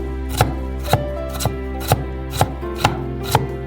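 A knife cuts a carrot into strips on a cutting board, seven sharp evenly spaced strikes about half a second apart, close and clear with no talking.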